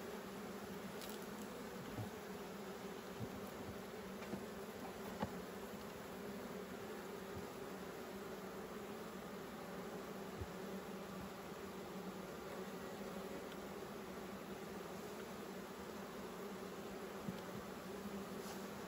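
Honeybees in an opened hive with brood and pollen buzz in a faint, continuous drone, steady and unbroken, with no talking.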